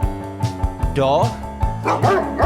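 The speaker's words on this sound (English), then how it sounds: "dog," A dog gives a couple of sharp barks, near and loud, over a rhythmic music backing with a pulsing beat.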